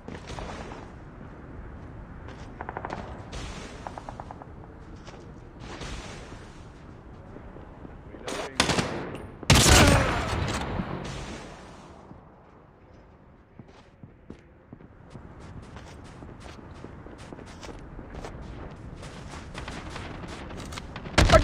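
Call of Duty gunfire while quickscoping with a DL Q33 sniper rifle without attachments: scattered distant shots and bursts, one loud close blast, with footsteps, in-game voices and background battle noise.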